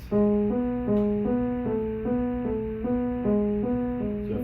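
Piano plays a repeating Chopin etude accompaniment figure of alternating chords in the right hand, in a steady, even rhythm, clear and close with no voices.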